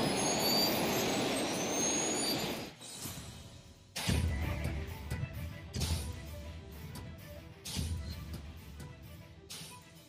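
A rocket launch engine roar plays from a recording, a loud broad rushing blast at first that cuts out abruptly, followed by softer bursts of noise and rumble.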